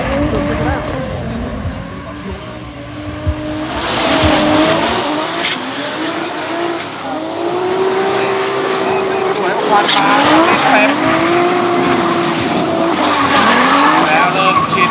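Drift cars at a Thailand event skid with tires squealing in long wavering shrieks, engines roaring underneath, fairly loud and close with a few bursts of louder squeal, and people's voices mixed in.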